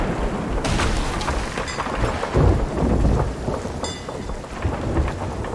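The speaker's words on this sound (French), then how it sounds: "On entendait la mer se déchaîner, l'orage gronder et les éclairs déchirer le ciel." Thunderstorm effect for a French audio drama: heavy rain pours steadily while deep thunder rumbles and booms roll through, loud and close, with no voices.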